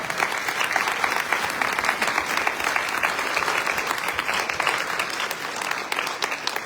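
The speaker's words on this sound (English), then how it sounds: "let's give them a round of applause" A hall audience at a fall conference Q&A breaks into dense, steady applause that holds at full strength for several seconds, with many hands clapping together and no talking over it.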